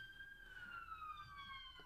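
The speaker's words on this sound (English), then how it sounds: "that was just the ambulance going past for Kate's campaign" An ambulance siren passes by outside a campaign event, a clear gliding wail that sweeps steadily downward in pitch, loud and continuous with no voices over it.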